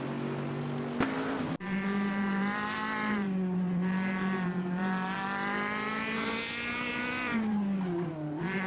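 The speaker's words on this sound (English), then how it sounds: "We're revving up with some intense AI race car action." Race car engines in an AI racing video game whine at high pitch, rising and falling through gear changes, loud and continuous, with one abrupt cut near the start.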